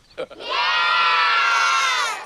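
A crowd of children shouts "yeah" in unison, a loud, sustained cheer lasting about two seconds after a brief voice at the start, used as a comedic editing gag.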